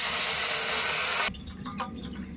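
About 1.5 litres of water pours steadily into a pot for making rasgulla syrup with a rushing hiss, then cuts off, leaving a few faint drips and clinks.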